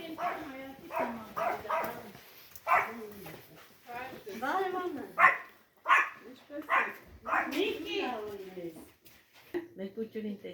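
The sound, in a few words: dog barking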